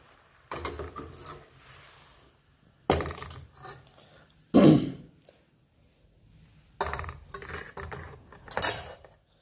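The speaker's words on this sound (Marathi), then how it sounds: "कढई खाली उतरून घेऊया" A kadhai pan is lifted off the gas stove after frying egg paneer, with metallic clanks, scrapes and rattling of cookware in several separate bursts, moderately loud and close, with quieter gaps between them.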